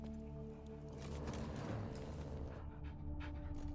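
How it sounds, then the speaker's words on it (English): A dog in The Witcher 3 video game pants in steady, rapid breaths, close and continuous for a few seconds, over low game ambience. "Just beware of the dogs."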